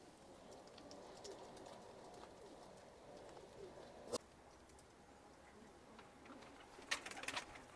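Soft pigeon coos drift in the distance amid quiet ambient noise, with a few faint taps and clicks scattered throughout.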